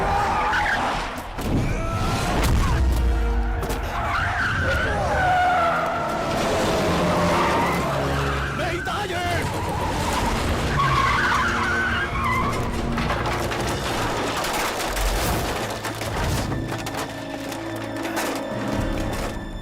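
A car skids with long tire squeals during a chaotic street fight scene, loud and continuous amid heavy traffic and action noise, with no voices.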